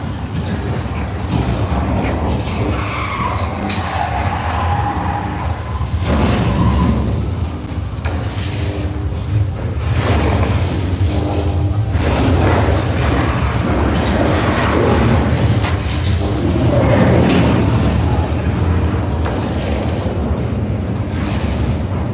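Simulated subway train crash on the King Kong ride at Universal Studios: loud rumbling rail noise with clattering and rushing bursts, filling the whole stretch with no clear talk.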